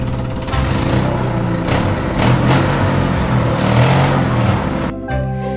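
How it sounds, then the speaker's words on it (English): A truck engine motors toward the listener, a steady rumbling drone with a rough, buzzy texture that holds for about five seconds before cutting to a quieter, different tone. "very soon they could hear his truck motoring towards them"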